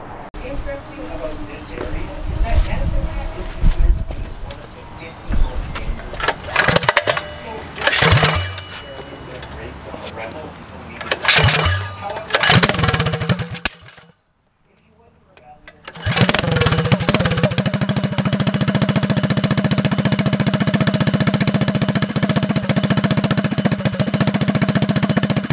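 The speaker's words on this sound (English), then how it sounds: "let's go ahead and get the motor back and going" A Predator 212 small engine that has just had a new spring installed is pulled over several times with sputtering starts. After a brief pause it catches and runs at a steady, loud idle. Someone speaks between the attempts.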